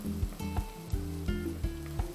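Potato fritters frying in coconut oil: a constant close sizzle broken by regular soft knocks and scrapes from the pan, with no voices.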